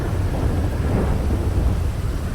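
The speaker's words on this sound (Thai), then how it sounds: "ฝนก็ดังเหลือเกิน" Heavy rain pours in the GTA video game with a low rolling rumble of thunder underneath, loud and constant throughout.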